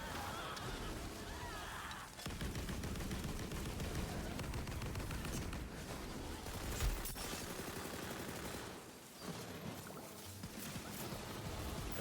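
SMG fire in the video game Tiny Tina's Wonderlands: dense, steady bursts of gunfire mixed with busy in-game effects and explosions, running almost the whole time with a short lull near the end.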